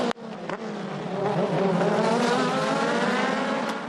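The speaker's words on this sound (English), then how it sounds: "down to the hairpin for the first time, and already Gowans is down the inside" Race cars at the Symmons Plains hairpin roar steadily and loudly, engines howling close by and building in intensity as the pack brakes and powers through the corner, with a brief sharp tyre noise at the start.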